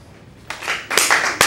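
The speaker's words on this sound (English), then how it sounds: "Clap your hands." Hands clap in a short burst: a few scattered claps come first, then a denser flurry of several people clapping together, ending in one sharp clap, in a classroom with no talking.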